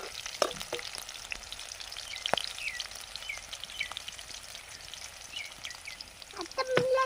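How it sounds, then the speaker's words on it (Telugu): Garlic cloves and red chilies fry in a pan for tomato chutney, giving a steady crackling sizzle with scattered sharp pops, close but fairly faint, with stirring swelling near the end. "ఇవన్నీ కూడా కొద్దిగా లైట్‌గా ఫ్రై అయ్యేంత వరకు బాగా వేపుకోవాలండి"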